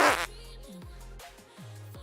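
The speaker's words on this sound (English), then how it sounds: "here we go, the fart show" A cartoonish fart sound effect played as a stream redeem, a buzzy burst followed by a series of wobbly, sliding low blasts, short and fairly loud with no talking over it.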